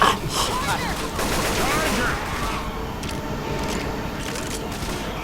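Rapid gunfire in the co-op zombie shooter Left 4 Dead 2: dense, overlapping bursts of automatic shots mixed with game noise. Players talk over the fire, which eases off partway through but keeps crackling in the background.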